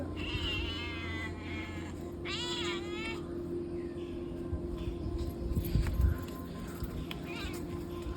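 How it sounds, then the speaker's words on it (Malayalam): A black cat named Karumbi meows in two drawn-out, wavering calls close by, followed by quieter shorter mews over a steady low household hum, with faint talk in the background. "കറുമ്പി പൂച്ച"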